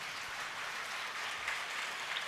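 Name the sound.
applause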